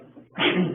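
A single short sneeze bursts out during a police interrogation, preceded by a brief intake of breath, close and fairly loud.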